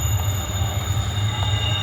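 An LRT train at a Palembang station rumbles steadily with a low mechanical drone and high-pitched wheel squeal tones, loud and close.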